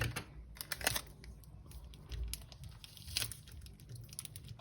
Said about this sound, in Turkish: şimdi biz minik minik bantlıyoruz